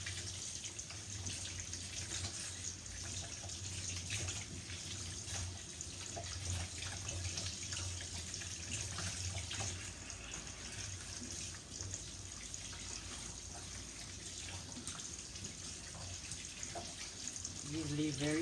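Tap water runs steadily into a sink while large spinach leaves are washed for spinach rice with okra and chicken, a constant close splashing rush that lasts throughout, with soft handling sounds and a voice talking intermittently.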